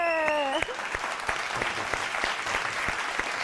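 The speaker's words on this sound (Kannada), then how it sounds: "ನಾನು ನಿಂತ್ಕೊಂಡು ಚಪ್ಪಾಳೆ ಕೊಡಲಿಲ್ಲ ಅಂದರೆ ವ್ಯತ್ಯಾಸ ಆಯ್ತದೆ" Audience applause rings out on a singing reality show stage, a steady patter of many hands clapping after a sustained vocal note fades at the start.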